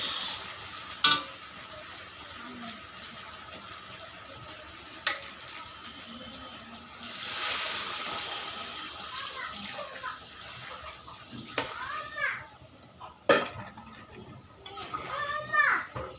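Warm water is poured into a pot of braised mutton curry and stirred in, giving a soft splash and faint sloshing and scraping, with scattered clinks and background voices.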